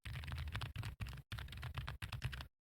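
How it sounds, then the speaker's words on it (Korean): Rapid clacking of a Hertz87 mechanical keyboard with standard linear switches being typed on up close, in quick bursts with short pauses, ending in silence. "일반 리니어 스위치"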